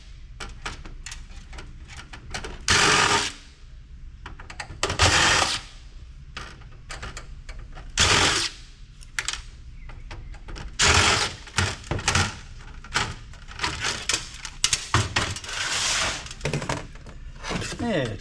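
Screwdriver with an extender backing screws out of a Dell Optiplex 390 desktop case, heard as repeated ratcheting clicks and mechanical clatter in bursts, with someone talking in between.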